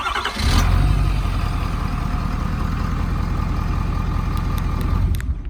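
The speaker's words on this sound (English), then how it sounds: "Truck will start right up." A Ford pickup truck engine, remote started, turns over and settles into a steady, loud low idle rumble that runs on until cutting off abruptly at the end.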